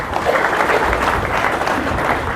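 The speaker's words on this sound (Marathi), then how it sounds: "टाळ्या वाजवा त्यांच्यासाठी" An audience claps for attendees at a career guidance talk, a dense, steady round of applause from a crowd in a hall, loud and continuous.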